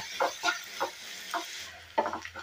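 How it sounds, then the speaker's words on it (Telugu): Onions frying in a pan with curry leaves and a pinch of salt, giving a soft steady sizzle broken by a handful of brief stirring scrapes and knocks, close and fairly quiet. "ఈ విధంగా గోల్డెన్ బ్రౌన్ వచ్చే వరకు ఫ్రై చేసేసుకొని"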